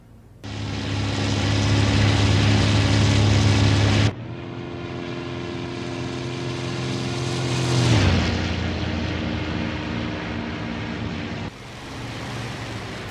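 A World War II propeller fighter plane's engine drones loudly and continuously in a low-level dive on a bomber, the pitch shifting sharply partway through and the roar surging and easing.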